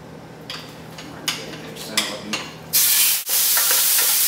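Beef being stirred in a hot pan, with soft scraping and rubbing sounds at first, then a loud, steady sizzle that fills the rest of the clip.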